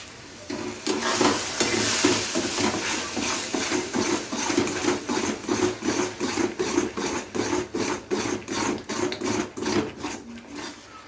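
Spices with turmeric and Kashmiri chilli powder being stirred and fried in a kadai, a sizzle under rhythmic scraping strokes that grow evenly spaced and regular, no talking.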